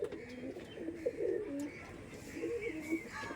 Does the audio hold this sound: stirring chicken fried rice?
no